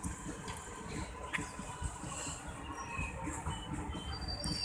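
A train at a busy railway station rumbles steadily nearby, with scattered clanks and squeals and a low, continuous mechanical roar throughout.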